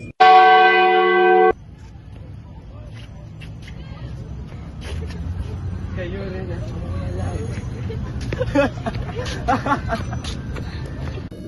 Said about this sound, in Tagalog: tumunog ang kampana sa kampanaryo ng simbahan